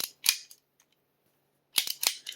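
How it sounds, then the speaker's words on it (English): A Jennings Model 48 pistol gives sharp metallic clicks as its slide is worked and the action resets, a pair of snaps, a pause, then a quick cluster of three close, crisp clicks. "So even though it sounds like it did, you hear that click."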